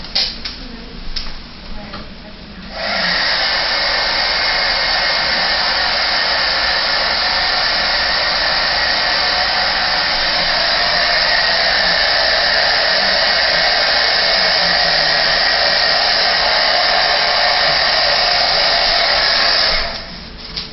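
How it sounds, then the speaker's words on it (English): An embossing heat tool blows over freshly embossed paper flowers, a steady, loud whirring hiss that runs for about seventeen seconds after a few soft clicks, then cuts off. "I'm going to go ahead and heat set them just with the heat tool"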